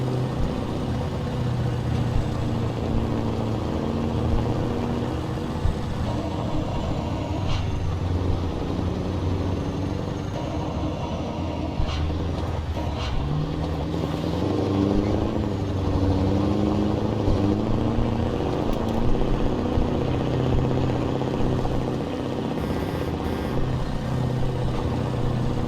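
A heavy truck engine in American Truck Simulator straining and losing traction, a continuous low droning rumble that rises and falls slightly with revs, with no voices over it.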